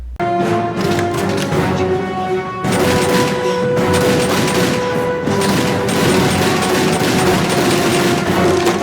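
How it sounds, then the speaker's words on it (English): Dense, continuous film battle noise with rapid gunfire bursts and heavy grenade blasts layered over a droning music bed, loud and unbroken throughout. "And then grenades get involved and more gunfire."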